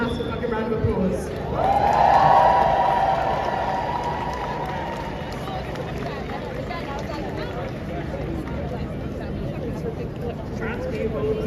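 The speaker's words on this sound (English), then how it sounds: "give them a massive fucking round of applause" Crowd at a Women's Day march in Manchester cheering and applauding, a swell of cheers early on that settles into ongoing claps and murmur, with some talk among the crowd.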